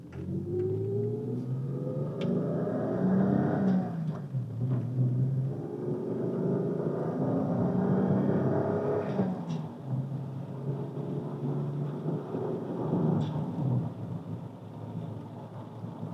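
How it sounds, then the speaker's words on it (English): A 1992 BMW 535 with a five-speed manual cruising at around 50 mph, heard from inside as a steady engine drone and road rumble with gentle rising pitch sweeps as it pulls along. "Only doing about 50 miles an hour, just cruising along"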